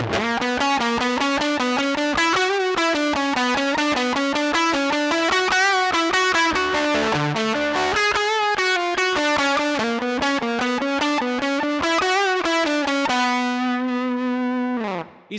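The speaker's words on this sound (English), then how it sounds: "Guitar into a fuzz, in this case is the Honeypot by TC Electronic." An electric guitar through a TC Electronic Honeypot fuzz pedal plays a fast, busy riff, buzzy and saturated, ending on a sustained fuzzy chord that cuts off.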